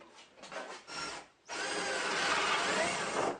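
A power drill bores small reference holes for alignment pins through wood. A few short, stuttering bursts come first, then a steady, loud, close drilling whine that runs continuously to the end.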